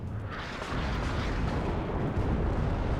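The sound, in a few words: artillery fire in the video game WARNO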